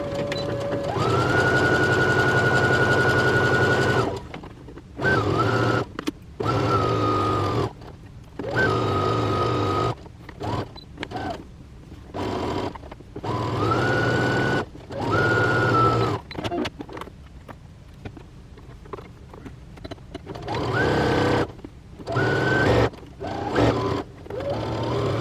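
A sewing machine hums through a Christmas stocking lining in repeated bursts of stitching, each run a steady whirring drone broken by short pauses and stop-start taps.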